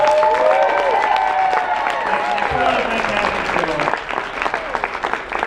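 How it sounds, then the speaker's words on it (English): Anime convention audience at a closing ceremony giving the staff a round of applause, loud dense clapping and some cheering filling the hall, mixed with overlapping voices, tapering slightly toward the end. "Please give them a round of applause."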